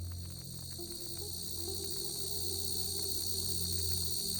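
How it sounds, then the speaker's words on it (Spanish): Crickets chirp in a steady, high-pitched drone against a low hum, continuous and moderately loud, with no voices. "mientras escuchábamos el canto de los grillos"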